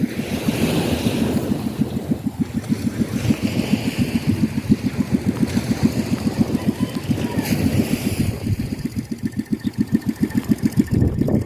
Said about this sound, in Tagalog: ayan po ang mga motor